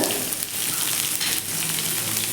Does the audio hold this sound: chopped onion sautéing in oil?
yes